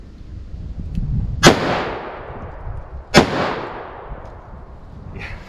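.44 Magnum soft point round fired into wood in a penetration test, two loud sharp outdoor shots about two seconds apart, each with a trailing echo decay; no talk.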